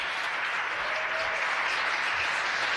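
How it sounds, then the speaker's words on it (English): Sustained, dense applause rises from the SpaceX control room in Hawthorne after a Crew Dragon launch reaches orbit, a loud, even roar of clapping that carries on throughout. "You hear the applause here in Hawthorne."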